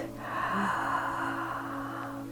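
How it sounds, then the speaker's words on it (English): Slow, deep breathing during a guided meditation, with a steady, airy breath held close and continuous, and no talk over it. "let's begin with 3 nice, really deep breaths, breathing into our chest"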